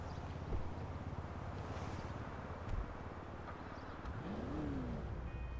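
The Benefactor Baller ST SUV in GTA 5 Online revs its engine, a low steady engine drone punctuated by a couple of short throttle blips and a rising, then falling rev near the end.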